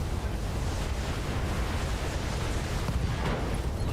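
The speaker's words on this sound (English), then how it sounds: "Internal ammo explosion detected. Target destroyed." An internal ammunition explosion destroys a mech in the BattleTech video game, heard as a dense, sustained rumbling roar that stays loud and even throughout.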